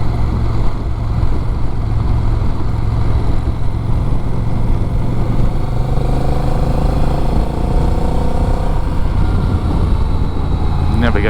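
A Honda Rebel 1100 cruiser motorcycle out on a ride, its engine droning loud and steady close by, with a constant low rumble and wind rush and a slight rise in pitch toward the end.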